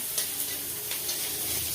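Onions salted and frying in a pan hiss with a steady sizzle, with faint stirring scrapes and small crackles close by throughout.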